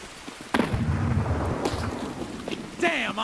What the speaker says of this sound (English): He threw another grenade.